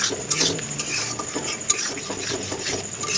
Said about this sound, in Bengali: তো একটু কষিয়ে নিচ্ছি